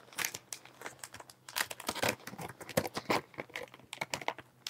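Product packaging from an A4 product line being opened and crinkled up close, a dense run of crackling, rustling plastic bursts with short pauses, with no talking.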